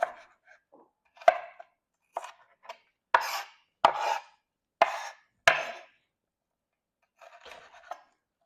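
A knife chops an onion on a cutting board while brussels sprouts and bacon are being prepared, giving about seven sharp, close chopping strikes at irregular intervals, followed by a few softer, scraping taps near the end.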